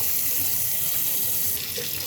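Water runs steadily from a full-flow hot tap fed by a Bosch 16P pilot-ignition gas hot water system, a continuous hiss and splash that stays loud and even throughout with no talk.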